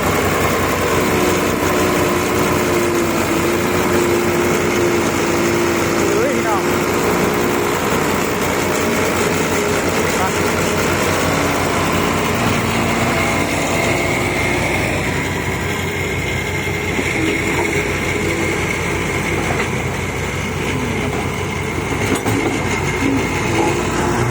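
Komatsu PC120 excavator diesel engine running loud and steady, a continuous heavy mechanical drone with rattling that holds throughout, slightly easing in the second half, with no talk.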